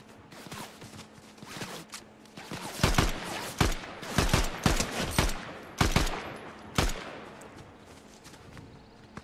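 Gunfire in the Fortnite video game: scattered single shots and rapid bursts, some sharp and near, others softer, with gaps between volleys and no talking over them.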